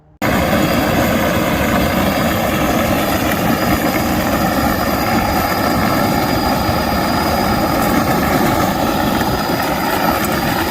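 Power Wheels ride-on toy upgraded with 18V 775 motors and steel gears, tires spinning hard: a loud continuous high whine and roar held throughout with no pauses, close up.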